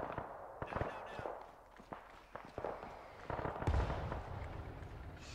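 Rockets bursting close to the player in a WW2 shooter game, a scattered series of sharp cracks and thuds with a heavier blast near the end, amid distant battle noise and faint voices.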